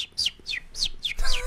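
A human voice imitates birds chirping, giving four quick, high, sliding tweets in a regular rhythm, followed by a brief burst of noise.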